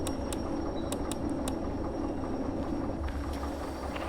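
A train rolls along in the Derail Valley simulator game with a steady low rumble and drone that is mid-loud and continuous, plus a few short, sharp clicks near the start.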